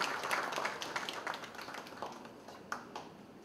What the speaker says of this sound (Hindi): जोरदार तालियों से संजीव जायसवाल जी का।